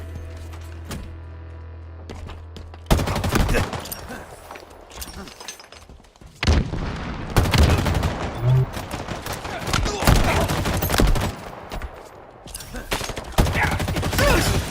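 Rapid bursts of gunfire in a Halo Infinite battle royale match, loud, dense volleys with brief gaps, mixed with game effects and an announcer voice between the shots.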